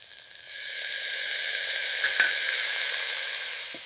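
Ginger garlic paste hits hot butter with browned chopped onions and sizzles, a steady frying hiss that swells after a brief quieter start and keeps going, broken by a faint stir or tap near the middle.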